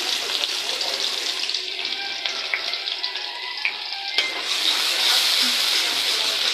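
Two large chopped onions hit hot oil in a pan, giving a steady broadband sizzle and hiss that stays even throughout and swells slightly louder near the end.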